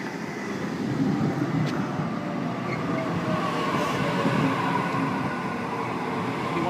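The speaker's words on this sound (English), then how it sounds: "Service arriving on a platform number 1." A Sydney Trains A31 set pulls into platform 1 at Rooty Hill station, a steady loud rumble of wheels and motors with a faint high squeal, no talking.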